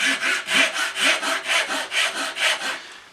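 A hand saw cuts down the cheek of a wooden tenon in quick, even strokes, about a dozen rasping push-and-pull passes close up, with no talking.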